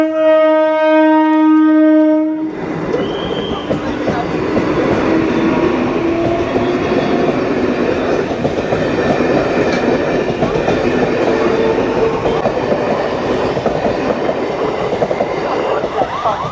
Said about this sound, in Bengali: Through train will be passing from platform number 3.